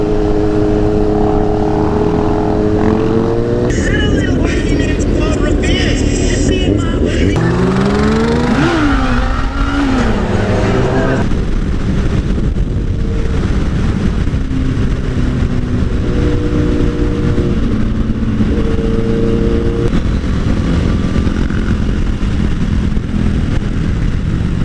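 A large group of about 30 motorcycles out riding together: loud, continuous engine roar with rising and falling revs and shifting pitches from several bikes, close and dense throughout.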